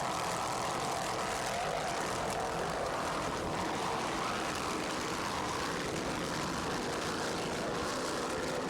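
Offshore racing powerboats, including Fountain boats, roar at the 1994 South Padre Island Grand Prix APBA race, a continuous dense engine drone heard from a distance.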